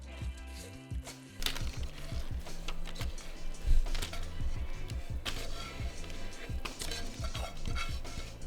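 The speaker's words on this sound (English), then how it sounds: "we're going to spoon the flapjack mixture into the tin" Oaty flapjack mixture spooned into a lined baking tin: close, repeated scraping and soft thuds of a spoon against the tin, with the occasional clink of metal, steady and unhurried, no voices.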